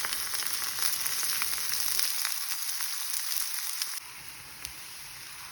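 Sliced onions sauté in hot oil for a shrimp curry, giving a steady, close hiss of frying with bright crackle throughout, dropping slightly in level near the end; no talking.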